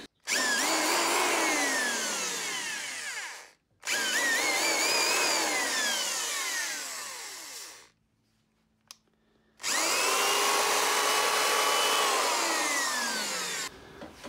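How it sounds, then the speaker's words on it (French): A repaired electric drill, its carbon brushes just fixed, runs in three loud bursts, each whining up to speed and then winding down, separated by near silence and a faint click. "tu vois que la foreuse fonctionne"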